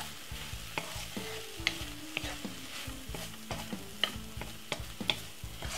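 A utensil stirs steamed cabbage in a pot, giving soft repeated scrapes and clinks with a light sizzle, over quiet melodic tones and with no speech.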